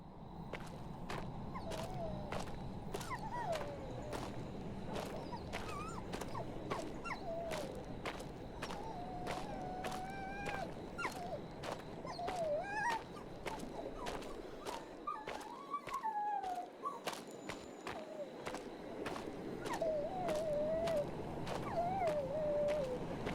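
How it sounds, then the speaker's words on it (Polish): A dog whimpers in the Maid of Sker video game, high thin wavering whines repeating over a low ambient drone and regular sharp ticking sounds, with no speech. "Jest tu piesiulek."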